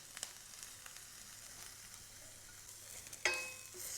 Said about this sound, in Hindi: इसी तरह से हल्की आंच पे इसको हल्का सा भून लेते हैं